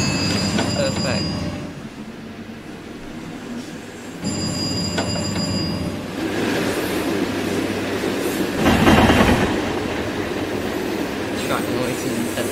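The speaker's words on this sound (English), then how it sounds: "Track noise is intensified." Continuous rumbling train track noise with rhythmic wheel clatter and occasional high squeals, loud and close throughout, swelling briefly midway.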